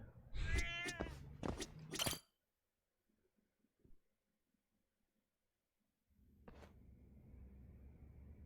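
Several cats in the video game Judgment meow in a quick loud burst at the start, with a single fainter meow later over low background ambience.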